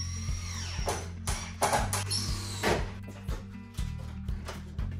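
A power drill drives screws into 2x4 lumber while a storage shelf is put back together. It comes in several short whirring bursts with gaps between them, and there are knocks and handling noises in the pauses.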